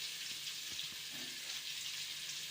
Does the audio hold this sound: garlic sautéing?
yes